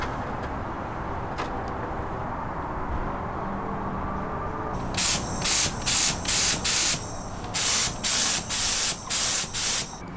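HVLP spray gun fed by a small compressor set to 30 psi sprays paint on a metal gate: a steady background hum, then about nine short, loud bursts of hissing spray in a quick on-off rhythm.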